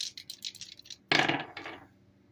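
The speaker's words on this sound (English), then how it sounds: "the dice roll so much better now that this is lacquered up" Dice rattle and tumble across a lacquered dice tray, with a cluster of light clicks followed by a sharper burst of clattering that quickly settles.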